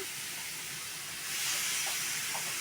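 Chiramenu fish frying in a pan for curry, a steady close hiss of hot oil that swells slightly partway through, with no talk.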